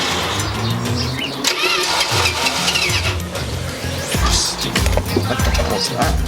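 Engine of a cheap Dodge Chinook camper revving as the throttle opens, a loud, rough, close roar that rises and falls in pitch over several seconds, with faint voices in the background.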